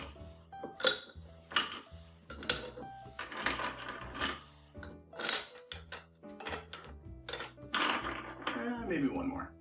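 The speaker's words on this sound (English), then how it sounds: "we'll go ahead and get some ice in our glass too" Ice cubes clink and rattle into a cocktail glass in a series of sharp hard knocks and chinks, close by, with a voice speaking briefly among them.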